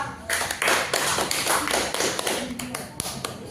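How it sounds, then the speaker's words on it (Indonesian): Students in a classroom clap for a student group during a microteaching competition, an irregular burst of close hand claps and taps that tapers off, with some talk mixed in. "kita berikan tepuk tangan untuk kelompok 2"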